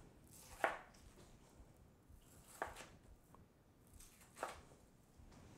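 A knife slicing through a soft log of black bean burger mix into patties gives three soft, quiet cuts spaced about two seconds apart over a near-silent background.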